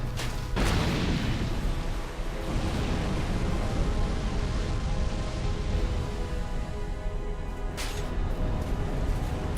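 The Old Iron King's fire laser attack in Dark Souls 2 fills the scene with a loud, sustained roaring blast, broken by a couple of sharp bursts near the start and end.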